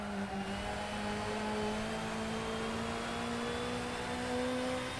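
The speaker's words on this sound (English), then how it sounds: "I have no idea how hard I can rev this thing." Race car engine in a racing simulator game, a sustained droning whine with steady tonal harmonics, moderately loud and fairly even with slight swells, no voices.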